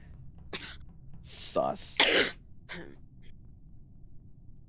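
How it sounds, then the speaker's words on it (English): A few harsh coughs and throat-clearing sounds come through loud and close, right into a microphone during an Among Us game voice chat, with a brief spoken word among them. "stop coughing into the mic"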